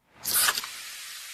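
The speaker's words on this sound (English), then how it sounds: "That's the sound of Pepsi Zero Sugar." A Pepsi Zero Sugar can cracks open with a sharp hiss that peaks quickly, then settles into a soft, steady fizz, close and alone.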